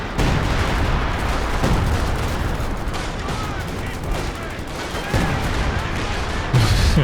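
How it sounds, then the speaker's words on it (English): Artillery and gunfire from a Company of Heroes 2 battle, loud and continuous, with dense overlapping blasts and crackling shots rolling throughout and a sharper burst near the end. "Bit of friendly fire from that artillery."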